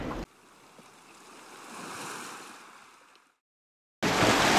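Sea waves stirred up by a passing boat's wake at a calm fishing spot: a broad wash of surf swells up, peaks, then fades to near silence before a loud rush of water noise returns.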